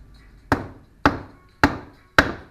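Four evenly spaced hammer blows driving a flywheel onto a Yamaha XT350 engine crankshaft during a rebuild, each a sharp, close metallic whack with a short ringing decay in a quiet workshop.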